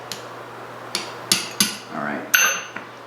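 Sharp metallic strikes from a small hammer on South Bend 10K lathe parts during a workshop restoration, five or six irregular blows, close and loud over a steady low hum, with a brief scraping sound between strikes.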